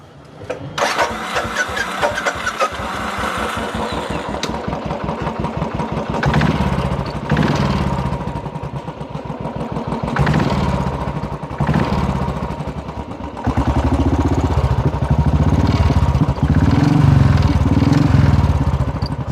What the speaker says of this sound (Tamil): வண்டி ஸ்டார்ட் பண்ணி காமிச்சிடலாமாண்ணா?